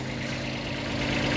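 A small tractor pulling a buggy at a sugar mill idles steadily, a continuous low rumbling engine drone close by, with no talk over it.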